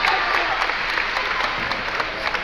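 A packed crowd applauds steadily at a Friday night girls' playoff basketball game at Catoctin, dense clapping filling the gym without a break.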